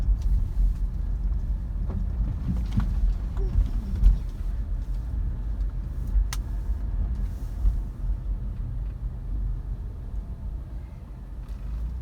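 A car rolls slowly through the streets of an RV village in Yuma, Arizona, its low engine and tire rumble steady and close, with a few faint clicks and distant sounds above it and no one speaking.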